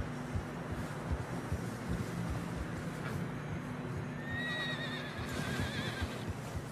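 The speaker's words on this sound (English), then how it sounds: "Horses are struggling." Horses neigh and whinny while trudging through deep fresh snow in Red Dead Redemption 2, with soft uneven hoof thuds, wind, and a clear high whinny near the end.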